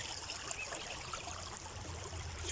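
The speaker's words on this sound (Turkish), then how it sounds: "Küçük bir derenin kenarındayım." Small stream flowing steadily beside a trail where morel mushrooms grow, a soft continuous trickle and babble of water at close range with no talk.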